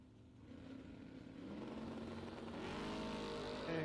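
A drag racing car at a bracket racing event builds a rising engine roar, faint and distant at first and growing steadily louder and more sustained, with no talking.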